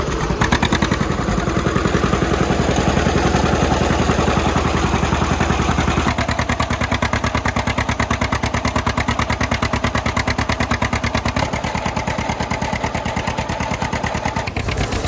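A John Deere A tractor engine runs at close range with a loud, steady, rapid popping putt-putt beat that continues throughout without speech.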